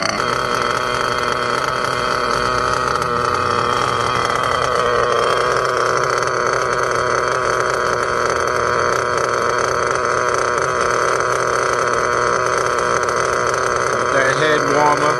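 Nova .21 GT G9R nitro model engine running outdoors on a rich setting with a head warmer attached, a loud continuous high-pitched buzzing drone that holds steady throughout.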